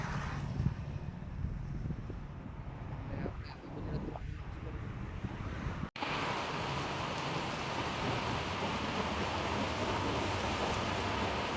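Monsoon storm rain falls outdoors near a roadside, a gusty wash with wind buffeting the microphone and low rumbles, then a sudden shift to a loud, dense, steady downpour.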